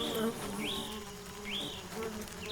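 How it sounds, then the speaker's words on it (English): Bees buzz in a steady, moderately quiet drone, while a few short rising bird chirps sound over them at intervals. "Let's revisit the bees for a moment"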